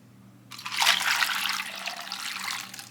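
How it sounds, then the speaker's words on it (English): Liquid potato-bake mixture poured over sliced potatoes, a close, steady pouring splash that starts suddenly and runs on alone at moderate level, tapering slightly toward the end. "we're going to pour that right over these potatoes"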